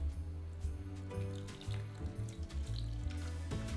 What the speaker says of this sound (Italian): Aggiungiamo un pochino d'acqua in modo che stufi più che soffriggere.